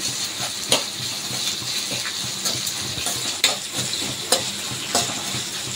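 Masala vada mixture being stirred and fried in hot oil in a pan: a loud, steady sizzle throughout, punctuated by several sharp scrapes and clacks of the spoon against the pan.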